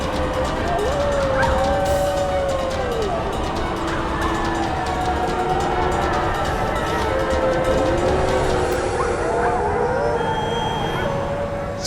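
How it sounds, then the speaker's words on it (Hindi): A jackal howls in several long, sliding, siren-like wails that rise and fall over a dense, steady background roar, fairly loud and continuous. "सियार के रोने की आवाज इसी दिशा से आ रही है।"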